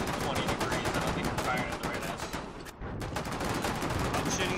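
Naval guns fire in rapid repeated bursts during a Foxhole ship battle, loud, dense volleys nearly continuous, briefly thinning before resuming, with faint voices mixed in.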